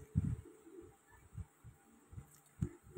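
A Dubai-breed pigeon coos nearby in a series of soft, low, throaty pulses, several short calls spaced irregularly across a quiet background.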